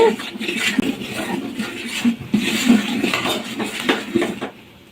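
A ladle scrapes and clinks against a metal pot while egg and drumstick curry with added coriander powder is stirred, giving steady irregular scraping and knocking strokes, close and moderately loud, with no talk.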